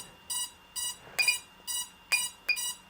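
A series of short electronic beeps from a GEPRC CineLog20 drone's overheating warning, about six in under three seconds, in pairs and singles with an even bright tone, loud and clear with no voices.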